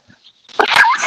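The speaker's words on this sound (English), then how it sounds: "That was to let you all hear me blowing my nose" A person blows their nose in one short, loud, close honking burst lasting under a second.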